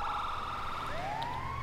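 A Chilean ambulance siren in a video game server sounds a continuous electronic wail, close and loud, with a tone that sweeps upward over steady background engine noise.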